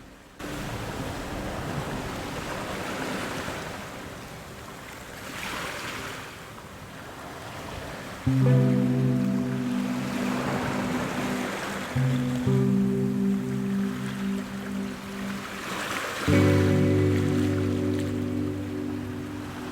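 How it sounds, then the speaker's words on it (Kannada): Ocean waves on the California coast, a steady wash of surf with rolling swells cresting every few seconds, joined midway by a low steady tonal hum. "ಆ ಅಲೆಗಳ ಲಾಸ್ಯ, ಸೊಬಗು ಹೇಳೋಕ್ಕೆ ಆಗಲ್ಲ"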